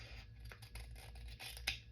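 Crafting scissors are handled and snipped in a quiet indoor setting, giving a few soft, close metallic clicks and scrapes with a sharper snip near the end and no talk.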